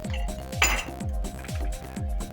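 Milk heated in a pot for homemade cheese is stirred slowly, a metal utensil scraping and clinking against the pot in a steady rhythm about twice a second, close and clear with no talking.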